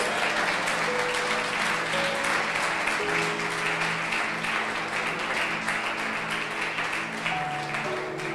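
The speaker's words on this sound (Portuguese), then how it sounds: "Vai, pode aplaudir a Deus" Church congregation clapping in praise to God during a sermon, steady crowd applause throughout with music tones sustained beneath.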